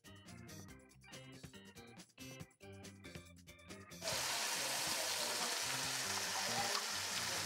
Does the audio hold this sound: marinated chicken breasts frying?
yes